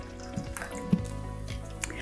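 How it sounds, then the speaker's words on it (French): Tap water poured into a glass, heard as faint, close trickling and dripping with light splashy plinks over a couple of seconds, no talking. "on va verser toutes ces eaux différentes"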